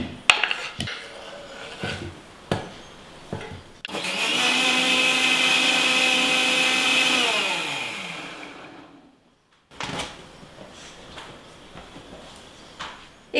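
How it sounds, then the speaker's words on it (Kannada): A mixer grinder blends thick-cut muskmelon pieces into juice: a loud, steady motor whine runs for about six seconds, then winds down to silence, with kitchen clicks and clatter before and after. "ಇದನ್ನು ನಾವು ಮಿಕ್ಸಿಯಲ್ಲಿ ಹಾಕಿ ಗ್ರೈಂಡ್ ಮಾಡ್ಕೊಳ್ತೀವಿ ಜ್ಯೂಸ್ ಥರ"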